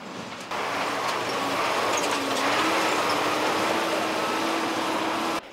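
A military vehicle driven over an obstacle course in an army rescue-unit competition, its steady engine drone rising slightly in pitch, close and loud, starting abruptly and running alone without talk.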